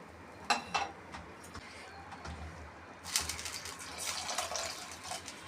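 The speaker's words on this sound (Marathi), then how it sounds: "त्याच्यामध्ये मी दीड गिलास पाणी टाकलेलं आहे" About one and a half glasses of water is poured into a cooking pan for rava upma in a splashing stream partway through, preceded by a couple of sharp clinks and soft kitchen noises; nobody speaks.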